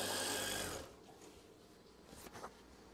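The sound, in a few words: sewing machine stitching an eyelet swag curtain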